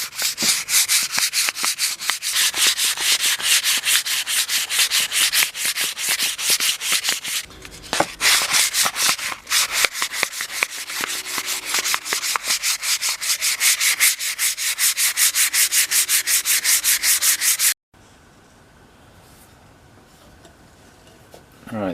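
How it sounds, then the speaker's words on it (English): Close, rapid rhythmic sanding and polishing strips paint off an old rusty framing hammer, loud and steady with a brief pause midway, then stops abruptly near the end, leaving a quiet room. "What I gotta do now is get all the little bits and pieces of paint off and then finish the polishing."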